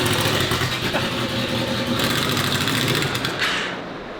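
Honda VFR800 motorcycle engine fitted with a cheap turbo, running steadily close by, a continuous dense mechanical drone with fast ticking that eases slightly toward the end.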